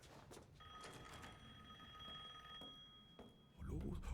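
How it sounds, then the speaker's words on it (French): A telephone rings inside the horror game Resident Evil Village, a steady electronic ringing tone that persists for a few seconds amid faint game ambience, with a louder low rumble at the end. "Téléphone."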